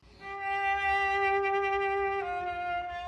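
A cello bowed with a loose, hanging bow hand and no added weight in the stick gives a sustained, clear tone. The single note is held for about two seconds, then shifts to a new pitch, solo and close.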